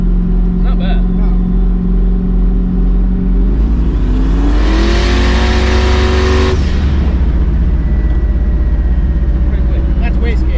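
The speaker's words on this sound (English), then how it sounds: "That's wastegate." A 1000-plus horsepower turbocharged Camaro accelerating hard on the street, its loud engine rising steadily in pitch as it pulls, then a burst of rushing turbo wastegate release before the tone drops back to a lower drone.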